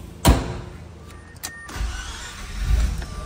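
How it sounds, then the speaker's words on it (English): Mazda RX-8 rotary engine with low compression, previously flooded, cranking and firing up almost instantly, a sharp close burst followed by a rising, rough idle rumble over a few seconds. "Instantaneous ignition. This is good."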